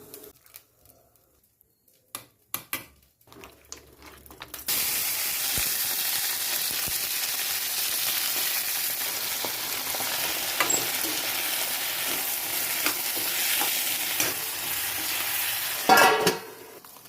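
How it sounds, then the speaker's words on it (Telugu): Tomatoes and onions fry in a pan for an eggplant curry, a steady loud sizzle that starts abruptly after a few soft clatters and continues unbroken, with a brief stirring scrape near the end. "నెక్స్ట్ టమాటాలు ఉల్లిపాయలు కూడా మనం వేయించేసుకుందాం."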